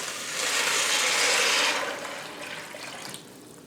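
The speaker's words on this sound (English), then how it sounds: "I'm going to add 4 cups of water." Water pours steadily into a pot with a rushing splash that swells for a couple of seconds, then thins out and trickles to a stop.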